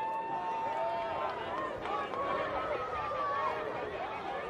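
A dense, steady crowd roar fills a 2023 NCAA men's lacrosse game between Notre Dame and Virginia, with constant babble and cheering holding at an even level throughout.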